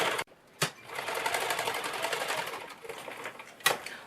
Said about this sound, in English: when you're quilting, it rides right up under the sewing machine with you